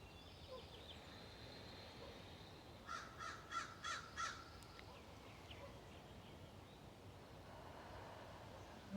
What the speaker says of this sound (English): I'm outside right now. I can hear the birds.